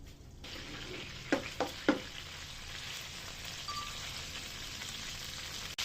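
Butter melts and sizzles in a hot pan while cooking garlic mushroom chicken: a steady, close frying hiss, with a few sharp clattering knocks early on and no talking.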